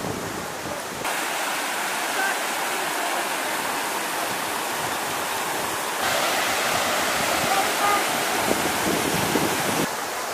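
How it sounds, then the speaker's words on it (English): Yellow-tinted waterfall in Chapada Diamantina, Brazil, roaring as a steady, dense wash of falling water, close and continuous with no voices over it. "this waterfall just keeps going and going from what we can see"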